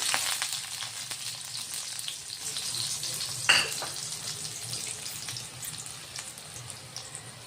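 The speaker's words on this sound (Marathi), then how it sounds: "आता तेल गरम झालेलं आहे आपलं, आणि हा लसूण 4 ते 5 कळ्या घेतल्या आहे मी सोलून. त्यामध्ये लसूण टाकायचा" Four to five peeled garlic cloves frying in hot oil, a bright steady sizzle with one sharp burst midway as they hit the pan, then settling to a softer hiss, no one speaking.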